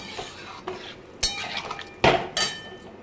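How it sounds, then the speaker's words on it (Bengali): Paneer being stirred with sugar and a little water in a metal pan, a few sharp spoon scrapes and clinks against the pan at irregular intervals, close and moderately loud. "জলটা দিয়ে ভালো করে নেড়ে চেড়ে"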